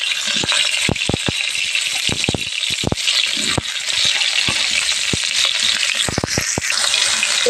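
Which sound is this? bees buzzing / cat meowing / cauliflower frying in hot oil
cauliflower frying in hot oil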